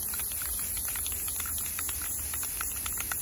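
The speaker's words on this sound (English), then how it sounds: "So now I'm gonna spray paint." Aerosol spray paint hisses steadily onto a tumbler treated with Dawn dish soap for a bleached finish. It is a continuous close spray with faint patter, and no one speaks.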